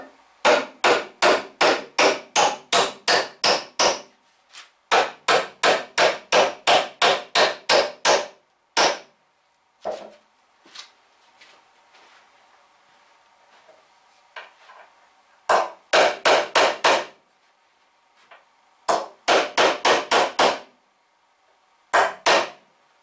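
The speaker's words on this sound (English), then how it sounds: "I'm setting the nails at a slight dovetail, which when they're both pounded in will make it much harder to pull the top off." Hammer blows drive nails into a bench built from pallet wood, landing in fast, loud, evenly spaced bursts with short pauses between runs and a quieter stretch of faint handling noise in the middle.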